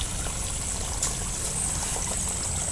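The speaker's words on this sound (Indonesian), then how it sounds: "Kita tiriskan." Water pours and trickles steadily as cooked cassava leaves are drained, a continuous close splashing stream with no talk.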